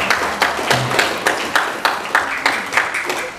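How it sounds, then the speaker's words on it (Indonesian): An audience claps in a steady rhythm at a school family gathering at SMP Muhammadiyah 3 Waru. The beats land about twice a second over a wash of crowd noise. "Tepuk tangan untuk kita semuanya."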